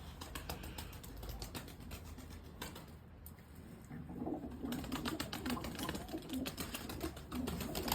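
Faint, low cooing of Arab pigeons at night in light rain, soft repeated coos in the second half over a steady patter of rapid tapping ticks.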